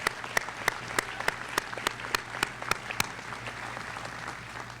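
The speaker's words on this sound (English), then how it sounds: "Let's give them a round of applause." At a city schools graduation ceremony, the audience applauds a state champion softball team: soft, steady clapping with distinct sharp hand claps popping out over a low electrical hum.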